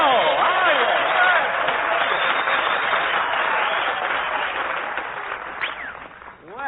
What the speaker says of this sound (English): Applause, cheers, whistles.